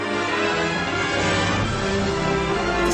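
Disney theme music plays as a joke, a full, steady orchestral passage with sustained tones at constant loudness and no speech over it.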